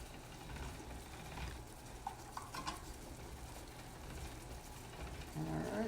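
Ramen dough being fed through a pasta machine, a steady low mechanical rolling and ratcheting rumble with a few faint clicks, close by and alone, with no one talking.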